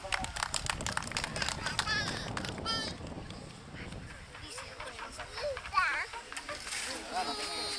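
Applause from the crowd at the patronal fiesta for Santísima Cruz de Mayo in Quero, Jauja, 2026: scattered outdoor clapping in the opening seconds, then voices talking over the background.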